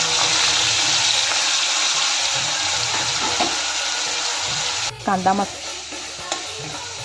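Hot tempering with bay leaves and curry leaves sizzles steadily in a pan, then a wet onion-garlic gravy is tipped in, giving a sharp burst of spattering and a clunk before the frying settles down.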